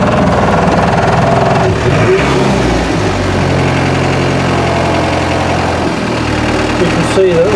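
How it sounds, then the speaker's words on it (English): A Land Rover Series 2 engine idles with a steady, loud low rumble that runs through the whole stretch, its pitch shifting slightly partway through. "You can leave this engine running."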